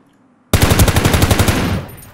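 Automatic gunfire in the shooter game Ring of Elysium, a loud rapid burst of closely spaced shots starting abruptly after a brief silence and fading out over about a second and a half.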